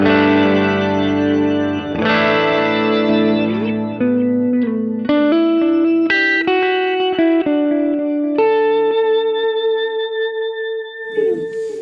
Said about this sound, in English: It's almost got a little shimmer reverb quality to it, but really versatile, like a workhorse pedal.